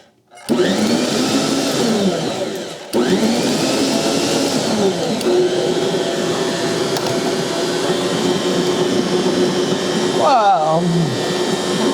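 A Bosch Universal Plus stand mixer pulsing a double batch of oatmeal raisin cookie dough gives a loud, close motor whir in repeated bursts, strong and sustained, with a brief grinding change near the end and voices nearby.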